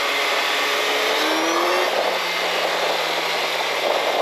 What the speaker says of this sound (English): I think you can hear the air intake on this bike